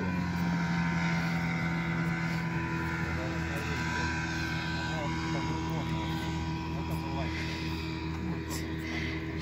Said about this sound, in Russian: Лодка вот пошла.